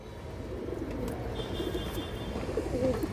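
A large female pigeon cooing softly over a constant low rumble of background noise, the calls faint and partly buried, with a brief high whistle-like tone in the middle.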